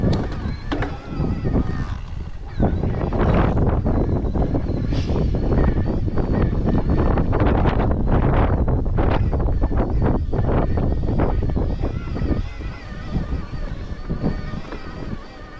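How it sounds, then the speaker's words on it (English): Strong wind buffeting the microphone on open hilltop ground at Barbury Castle on the Ridgeway, loud rough gusting roar that rises and falls throughout, with no clear voices. "this side of the castle, it is actually quite windy"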